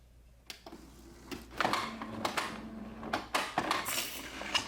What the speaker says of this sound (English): It looks like it's printing.